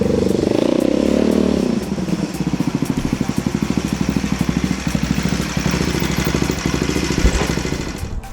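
A motorbike courier's engine rumbles close by, first revving loudly, then settling into a steady, pulsing idle with clattery low-mid pops that continue throughout with no talk.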